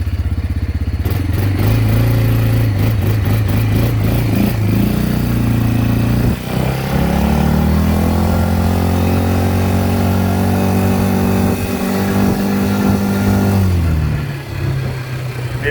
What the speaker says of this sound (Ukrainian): ви бачите, достатньо легко достатньо легко квадроцикл розганяється, ми майже 30 кілометрів розігнались без усяких напрягів.